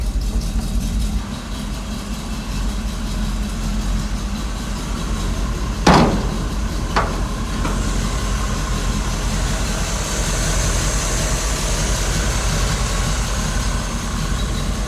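A 1984 GMC van's engine running steadily at idle, a constant low hum with a couple of brief sharp transients partway through.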